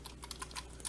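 Computer keyboard keys pressed while positioning a node in Inkscape, several quick light clicks spread irregularly across a short, quiet moment with no talking.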